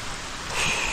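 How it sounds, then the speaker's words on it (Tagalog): Heavy typhoon rain falls steadily over a damaged garden, a dense, even hiss that swells slightly louder midway through, with no voices. "grabe ang ulan."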